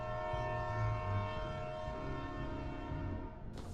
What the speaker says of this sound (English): The episode ends with the haunting horn of a train.